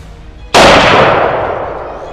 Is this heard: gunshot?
yes